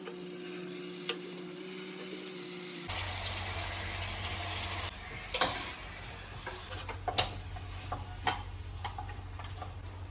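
Bones go into a frying pan with fried green chillies for bone soup, a sudden jump to a louder sizzle followed by scattered clinks and scrapes as the pan is stirred, steady and close.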